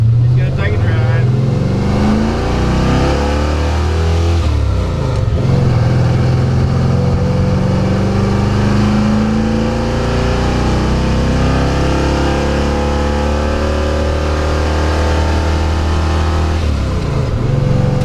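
A crew cab squarebody pickup truck drives on blacktop, its engine droning loud and steady with shifting revs, while people talk inside the cab over the motor.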